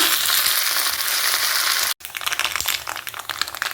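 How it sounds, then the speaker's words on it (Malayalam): Dried red chillies and curry leaves hit hot tempering oil with mustard seeds in it, giving a loud, steady crackling sizzle with a brief break partway through. "വറ്റൽ മുളക് ഇട്ട് കൊടുക്കാം കറിവേപ്പില ഇട്ട് കൊടുക്കാം"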